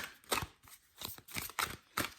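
Large Witch's Wisdom Oracle cards being shuffled by hand: several quick, close, papery riffling bursts in an uneven rhythm, with no talking.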